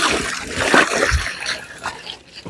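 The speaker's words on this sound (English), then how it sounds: "So let's wash. So you can see running water" Running water rinsing tie-dyed adire cloth, a steady close splashing and gushing wash with sloshing bursts as the fabric is moved, no talk.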